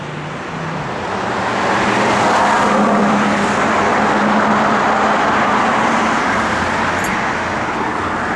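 A 1968 Chevrolet Camaro RS with its numbers-matching 327 V8 and stock four-barrel carburetor drives along, engine and road noise swelling as it nears and then holding as a loud, steady roar.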